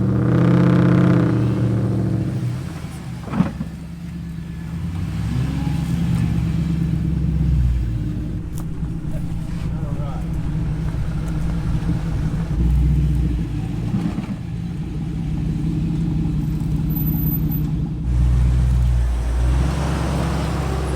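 An off-road truck accelerates in sand to pull another stuck truck free, a loud rumbling engine that revs up, surges and eases off in several pulses, close and without talk.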